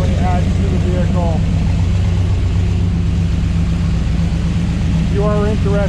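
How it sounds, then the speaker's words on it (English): A 1969 Chevrolet Corvette with side exhaust pipes idles with a steady, deep, low rumble throughout, and someone talks over it at intervals. "You hear those side pipes? It really adds to the vehicle."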